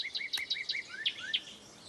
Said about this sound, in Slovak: To je hýl.